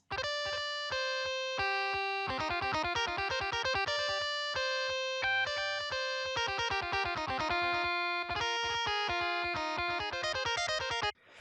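Two distorted electric guitar MIDI tracks for a Sigil tune play together, a dense run of repeated chugging notes and chords with a slight echoing delay between the parts, loud and steady throughout.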